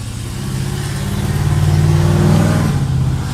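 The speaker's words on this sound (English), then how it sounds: "Another loud car." A loud car accelerating outside, its engine a rough, steady drone that swells and climbs in pitch for a few seconds before easing off, heard with no talking.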